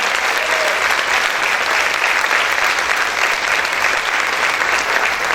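A church congregation applauds loudly for the Lord, a dense, steady roar of many hands clapping throughout, close and full with no pauses.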